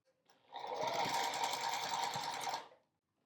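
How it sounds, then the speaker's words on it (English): Sewing machine stitching a fabric leaf onto a stem for a charm pack wall hanging, one steady close run of rapid whirring stitches lasting about two seconds, starting and stopping cleanly with no talking. "we're going to sew the leaf on to the stem"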